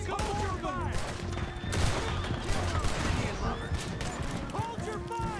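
Gunfire in Red Dead Redemption 2: volleys of shots crackle repeatedly over a dense battle din, with voices talking throughout.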